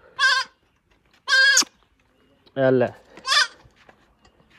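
Goats bleating close by, four loud, separate calls spaced about a second apart, with a quiet background between them.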